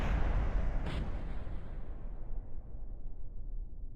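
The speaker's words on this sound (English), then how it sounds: "Beautiful explosions." Broadband explosion rumble from a space game with dragons, loud from the start with a brief bright burst near one second, then decaying into a long, slowly fading roar.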